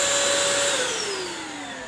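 A Bissell cordless wet/dry vacuum floor cleaner runs steadily with a loud, close motor whine and airy rush, its pitch sagging slightly as it continues, with no talking.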